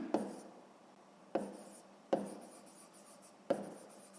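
Pen writing an equation on paper for a sixth-grade math exercise: four quick, quiet scratchy strokes, each starting sharply and trailing off, close and alone with no talking.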